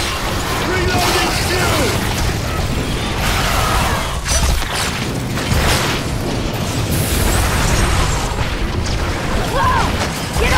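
Grenades blow up in the video game Evolve Legacy amid a dense, chaotic wash of booms, mechanical clatter and pops that runs continuously and loudly throughout, with voices mixed in.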